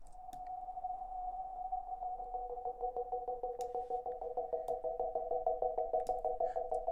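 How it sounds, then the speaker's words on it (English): A sustained synth tone chopped by an LFO volume gate into a fast, rhythmic 1/8-triplet pattern, pulsing steadily in quick stutters, clear and alone. "you load up an LFO tool that automates volume, and you can draw in a pattern"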